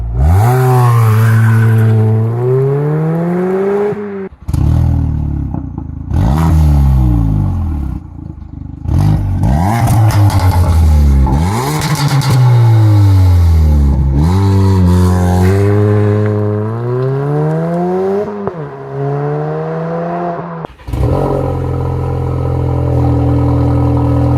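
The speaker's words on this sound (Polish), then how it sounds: "zobacz jeszcze testy, które robił Bartosz z różnymi wydechami" A Ford Focus engine revs hard again and again, pitch sweeping up and down through repeated throttle blips with short pauses, loud and close, exhaust tone shifting between runs with different exhausts.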